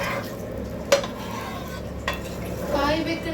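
A utensil stirs and scrapes in a pan while pasta is prepared, with a few distinct metallic clinks against the pan and a brief rougher scrape near the end, close by and otherwise quiet.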